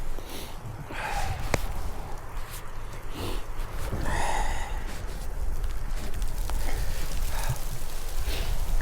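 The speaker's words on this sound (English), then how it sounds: "Got the hail coming down." Hail pelts an off-highway vehicle trail in a steady, dense rattling hiss that holds throughout, with a few breathy snorts and sniffs near the recording.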